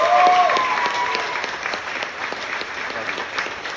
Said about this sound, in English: Can we please give the Weiner family a round of applause